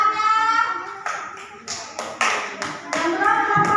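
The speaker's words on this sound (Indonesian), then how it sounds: "Terus sekali untuk kelompok 3 tepuk tangannya." Classmates clap for group 3 in a school classroom, a burst of close applause that rises and falls over a few seconds, with a voice briefly heard over the start.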